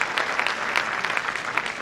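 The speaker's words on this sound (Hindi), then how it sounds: "तो मेघना जी के लिए भी जोरदार ताली बजाए तो अच्छा है।" An audience at a university park inauguration ceremony claps in steady, dense applause, continuous and fairly loud throughout.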